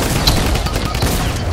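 Dense, rapid gunfire fills the scene in the video game Fortnite, a minigun rattling in a loud, continuous burst with fast pulsing bursts throughout.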